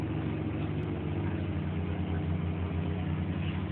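A Ferrari engine runs at a steady idle, deep and continuous with a rich low rumble, close and even throughout with no talk over it.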